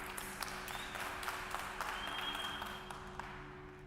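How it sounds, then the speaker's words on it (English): A conference audience at a blockchain event claps for a speaker taking the stage, a soft, distant ripple of applause over a steady hum of the hall's sound system. "give a huge round of applause for Bruno San Martin"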